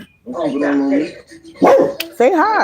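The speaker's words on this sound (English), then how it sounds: "That's my dog." A pet dog gives several short barks and yips close by, mixed in with a person talking to it.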